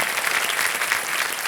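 A studio audience on the Kaun Banega Crorepati 14 set claps to welcome celebrity chef guests, a brief, dense burst of steady applause.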